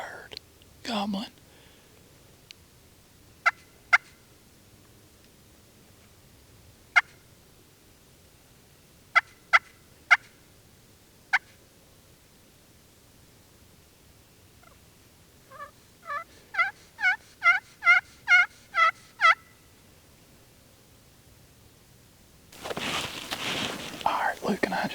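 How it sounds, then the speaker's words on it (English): A wild turkey on Mississippi public land gobbles in a long, distant, rapid burst after several scattered faint calls, with whispered talk nearby in an otherwise quiet setting. "I'm pretty sure that's a bird gobbling."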